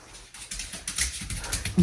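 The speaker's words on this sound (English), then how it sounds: "Come on, puppy." A puppy whimpers and yips in short, faint broken whines, close by with light rustling around it.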